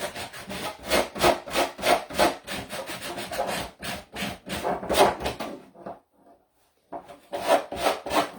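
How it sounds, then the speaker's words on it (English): A coarse sanding block rubs along wood edges in quick back-and-forth strokes, a dense rasping rhythm up close that stops briefly before a few more strokes resume. "sand this off. The edges."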